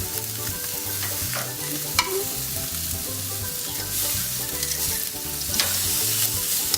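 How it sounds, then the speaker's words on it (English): A salted steak sears on a grill over direct flame, with a loud, continuous close-up sizzle and crackle and a few brighter pops, with no one talking. "I'm going to take the protein and put it salted side down right over the direct flame"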